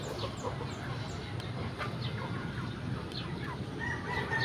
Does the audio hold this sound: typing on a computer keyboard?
no